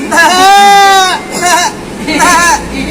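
A voice imitates a bleating goat with one long wavering bleat followed by two shorter ones, up close and loud.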